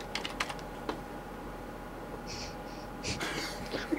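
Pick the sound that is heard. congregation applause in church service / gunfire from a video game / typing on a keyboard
typing on a keyboard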